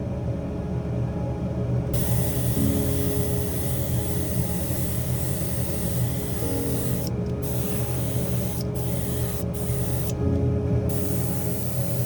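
An airbrush sprays 2K varnish onto a Hoonicorn Ford Mustang scale model: a steady, close hiss starts after a short quiet lead-in and breaks off in a few brief gaps near the end.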